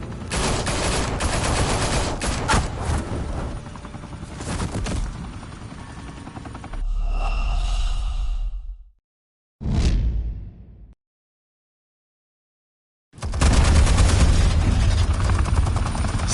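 Bursts of automatic gunfire erupt amid a roaring helicopter-like din in a Gotham action scene, dense rapid shots and whooshes at first, then a tonal whine, a sudden loud burst, silence, and a return of heavy noise.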